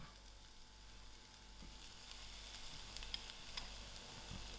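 Onions with ginger and garlic fry in a pan, making a soft, continuous sizzle and hiss heard close by, with a few faint stirring clicks and no voices.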